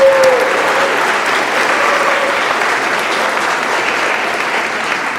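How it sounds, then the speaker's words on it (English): Loud, sustained applause from a crowd of over a hundred people at a community bike network event, a thick unbroken roar of clapping that holds steady and close throughout. "Give yourselves a round of applause."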